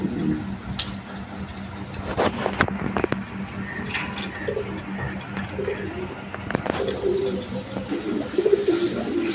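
Two male Rajgola pigeons cooing in repeated soft, low calls, close by, with faint bird chirps and distant traffic in the background.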